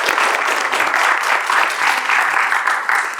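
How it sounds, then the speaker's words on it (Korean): Lively applause from a talk-concert audience, many hands clapping in a thick, even roar that stays loud throughout with only slight swells. "박수 한번 다시 한번 보내주세요"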